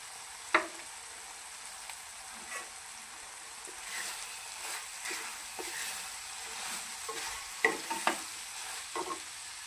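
A bean vegetable stir-fry with added peanuts is stirred in a pan, giving a quiet, low sizzle punctuated by scattered scrapes and taps of the spoon against the pan.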